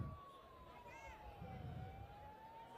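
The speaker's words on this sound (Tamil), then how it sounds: "ஆம்புலன்ஸ் கொஞ்சம் வழி விடுங்களேன்." Ambulance siren sweeping slowly in pitch, steady and fairly prominent over a noisy street crowd at an election campaign rally, with low traffic rumble underneath.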